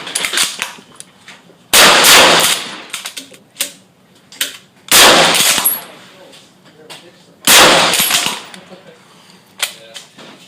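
Rapid Lee Enfield SMLE bolt-action rifle fire during a Mad Minute drill: several loud, sharp shots spaced a couple of seconds apart, with metallic bolt clacks and rattles between them outdoors.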